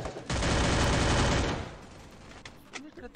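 Dense burst of gunfire in the video game Free Fire, loud and sustained for about a second, then trailing off into quieter game noise with faint talk.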